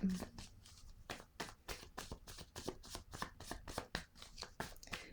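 A tarot deck is shuffled for a reading, with rapid repeated riffling swishes at close range. Quiet speech runs underneath the card sounds.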